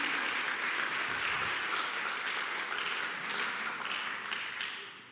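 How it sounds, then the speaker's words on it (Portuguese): A church congregation claps together for the women during a worship service, a steady wash of applause that holds evenly and then tapers off toward the end; no one speaks. "Homens, vamos aplaudir o que Deus tem feito por meio das mulheres."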